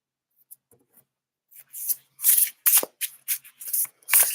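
Tarot cards shuffled by hand and drawn from the deck, a run of soft riffling, sliding bursts that start faint and grow louder, close up with no talking.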